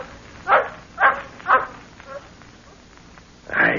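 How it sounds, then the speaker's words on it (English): A dog barks in an old-time radio drama, three evenly spaced sharp barks followed by a softer yip and another bark over a faint, hissy background. "That dog barking."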